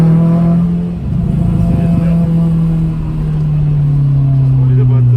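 A JDM-spec Honda Civic EP3 Type-R engine climbs in revs from inside the car, a loud steady drone that rises in pitch, dips briefly twice, then holds, with a voice speaking over it.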